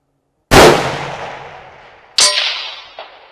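A rifle shot fired with a Sig Kilo 2400 ABS rangefinder in use: a loud, close muzzle blast rolls away, then the bullet strikes a steel target at 600 yards with a sharp, fainter distant ring, followed by a small echo.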